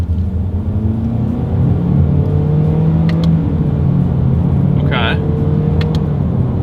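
A 2022 Honda HR-V with a CVT accelerates during a paddle-shifter test, its low engine drone heard steadily from inside the cabin. A few faint clicks and brief higher tones sound over the constant rumble.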